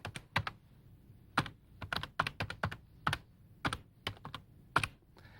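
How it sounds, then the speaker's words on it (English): Typing on a computer keyboard, irregular bursts of crisp close-up keystrokes in quick clusters with short pauses, alone in a quiet room. "Then I click on Domain, and I type in the domain name."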